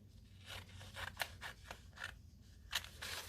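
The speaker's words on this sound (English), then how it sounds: "So I'm going to tear this out very carefully here." A page torn carefully from a magazine gives close, quiet ripping in a rapid series of short papery bursts over about three seconds, with no voice.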